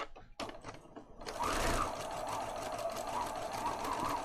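After a few soft clicks, a sewing machine starts up and runs steadily, stitching a small lace tag onto a handmade junk journal with a fast, even mechanical whir.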